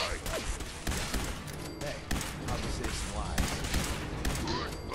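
Gunfire in the Fallout 4 video game comes as a dense, continuous fusillade of overlapping shots and thuds, loud and busy throughout.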